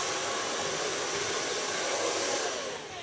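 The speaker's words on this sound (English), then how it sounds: "Now, so far blow drying." A hair dryer blows steadily while drying hair in a salon, a constant loud whooshing hum that carries for a few seconds and eases slightly near the end, with no talking.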